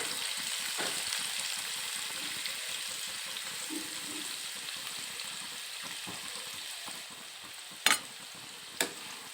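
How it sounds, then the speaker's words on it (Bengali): Finely chopped onions fry in hot oil in a pan, giving a continuous dense sizzle with crackle throughout, then two sharp clinks near the end; no speech. "গরম তেলের মধ্যে দিয়ে দেবো কুচি কুচি করে রাখা পেঁয়াজ"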